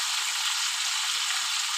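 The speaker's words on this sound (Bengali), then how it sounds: "আলুটা আমি একটু ভেজে নেব।" Potatoes fry in a pan for simple home cooking, giving a steady, close hissing sizzle with no voices.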